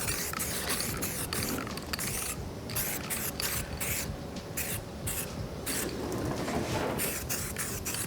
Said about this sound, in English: like spray guide coat